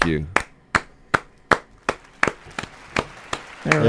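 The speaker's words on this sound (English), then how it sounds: "Can we cue the applause?" On a podcast recording, a cue for applause brings a slow, even series of about ten single, sharp hand claps, close and evenly spaced, with a brief voice at the very end.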